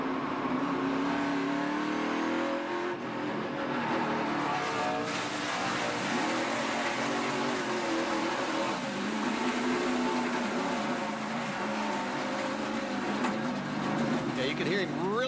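A driver's NASCAR race car engine held near full throttle in a continuous loud roar, its pitch rising and falling with gear changes through the whole stretch, a voice audible underneath.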